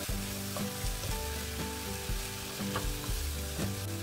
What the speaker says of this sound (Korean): 골고루 양념이 잘 배이도록 볶아줍니다